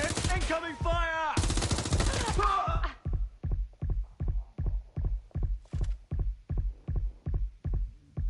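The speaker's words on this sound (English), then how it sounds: "Incoming fire!" Video game gunfire follows a few seconds of a voice: a long, steady series of single loud shots fired at an even rhythm, close and dominant once the talking stops.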